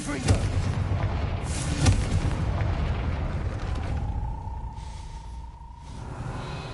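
Confringo fire spell cast in the Hogwarts Legacy game: a loud booming blast with rumbling crackle near the start, a second burst around two seconds, then a fading rumble and a thin sustained tone.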